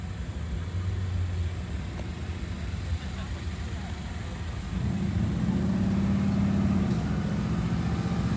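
Car strapped onto a mobile dyno at a Cars and Coffee meet in Nashville, its engine droning low and then swelling louder as it spools up partway through, with talk and crowd noise around it.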